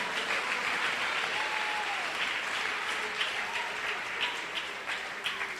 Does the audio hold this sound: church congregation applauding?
yes